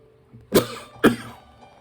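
Two sharp coughs about half a second apart from a man with the flu, close and fairly loud over a low background hum.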